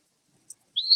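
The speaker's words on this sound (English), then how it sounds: "he sounds like Phoebe, Phoebe, and she's going to play" An eastern phoebe, a small flycatcher, gives a brief call: a short high chirp, then a rising then level whistled note, close and clear against silence.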